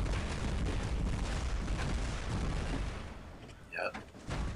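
Heavy weapons firing from robots in the War Robots mobile game, a dense rumbling barrage of booms and blasts that fills most of the clip loudly, then thins out, with a voice briefly heard over it.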